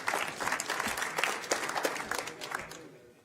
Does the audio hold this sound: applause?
yes